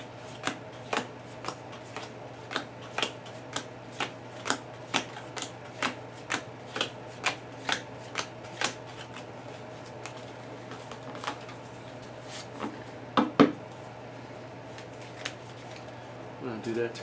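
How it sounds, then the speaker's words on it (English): Playing cards for the Lord of the Rings card game are shuffled at a table in a riffle of crisp, evenly spaced snaps, with a denser flurry near the end and quiet talk in the background. "And we'll give this a shuffle."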